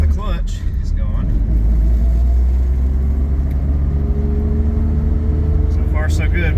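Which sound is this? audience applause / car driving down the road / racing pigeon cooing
car driving down the road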